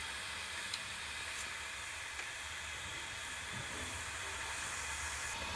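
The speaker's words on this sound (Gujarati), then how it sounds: "હવે આપણે ઢોકળાનું આંધણ મૂકી દીધું છે આ રીતનું" Water heats in a steamer set up for Gujarati dhokla, giving a steady, even hiss of steam and bubbling, faint and continuous with no voices.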